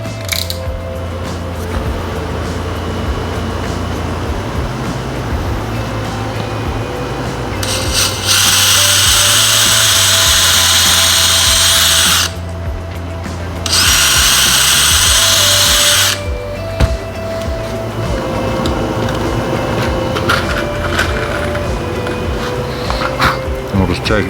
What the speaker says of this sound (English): I'm going to pre-drill some screw holes in the stick so it doesn't split open when I put the screws in it